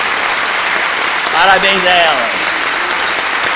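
Steady applause fills the hall at a solemn legislative session honouring DeMolay Day, continuing under a man's spoken words.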